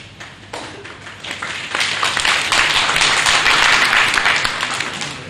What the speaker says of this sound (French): c'est les applaudissements pour Riemann